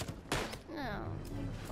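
One sharp, loud gunshot in a shooter video game cracks out early, followed by a tonal game sound and voices in the background.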